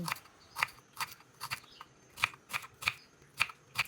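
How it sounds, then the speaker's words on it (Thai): Crisp knife cuts through shallots on a board, close up, in a loose series of sharp strokes that settle into a steadier rhythm. No talking. "นำหอมแดงมาหั่นซอย"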